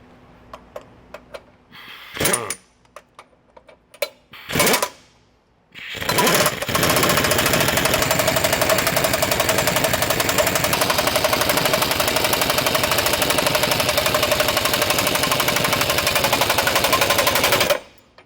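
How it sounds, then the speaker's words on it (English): An impact wrench drives 1 5/16 inch nuts on a Roadmaster rear anti-sway bar on a 2024 Ford F-53, with a few short bursts and then a long, loud, continuous rattling hammer of the tool. "I'm going to tighten them up evenly, so I'm going to go in kind of an X formation here."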